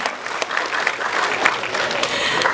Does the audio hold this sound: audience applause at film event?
yes